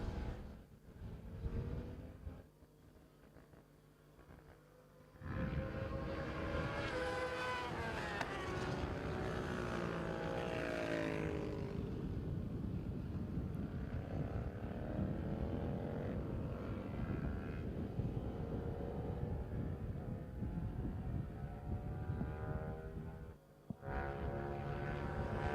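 Yamaha MT-07 / R7 motorcycle engine passing on a race track at a track day, a loud rising and falling roar that swells as the bike nears and holds steady, with other bikes faintly audible in the background.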